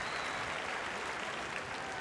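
A crowd at a state championship boys' basketball game in Nebraska gives a round of applause for honored students, a continuous dense roar of clapping heard at a distance, with no voice over it.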